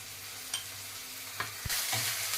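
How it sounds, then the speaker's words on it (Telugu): Ginger garlic paste fries with golden onions in a pan, giving a constant sizzling hiss, a few scrapes and knocks of a stirring spoon, and a louder burst of sizzle near the end. "అల్లం వెల్లుల్లి పేస్ట్ వేసుకోవాలి"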